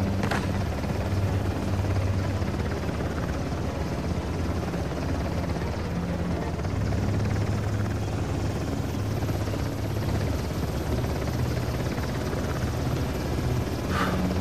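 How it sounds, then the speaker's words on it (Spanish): Helicopter in the video game Uncharted, a steady rotor drone that holds loud and continuous throughout, with no talking over it. "Y el helicóptero también."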